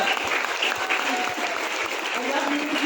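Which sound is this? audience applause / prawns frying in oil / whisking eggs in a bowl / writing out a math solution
audience applause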